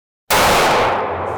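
A single sharp report from a 9mm handgun bursts out of silence, loud and close, with a bright crack that decays into a lingering outdoor echo.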